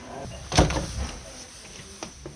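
An interior door in a Pocono Mountain vacation rental house is opened with a sharp thud of the latch and a short swing, followed by a couple of faint clicks, with light movement and voices around it.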